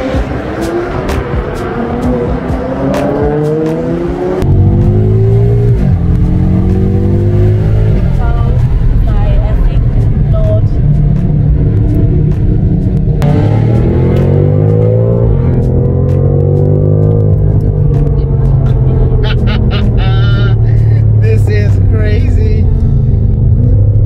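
Nissan Skyline GT-R cars driving on the way to Caffeine and Machine, a steady low engine rumble with occasional revving that holds throughout, heard close with people talking over it.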